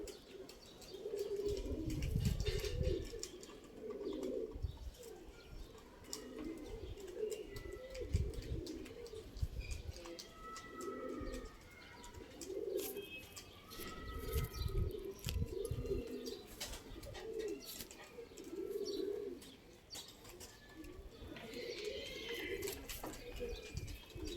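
Pigeons coo repeatedly in soft, low rolling calls, several overlapping at close range, with occasional faint chirps and a brief flutter.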